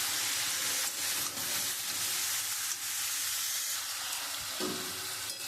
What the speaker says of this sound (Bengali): এবার আমি সব সবজিগুলো দিয়ে দেবো। দিয়ে আমি খুব ভালো করে কষাবো।